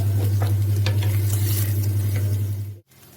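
An egg frying in a pan with oil, a steady sizzle with scattered crackles over a strong low hum, cutting off abruptly near the end.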